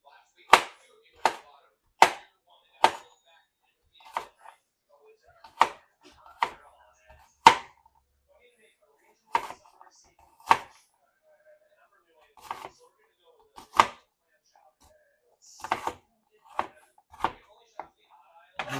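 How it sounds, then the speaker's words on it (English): A knife chops food on a cutting board while preparing BBQ sauce for pecan-smoked chicken: sharp, close, evenly spaced thuds, some in quick pairs, with brief pauses between bursts and no talking over them. "I'm going to chop it up."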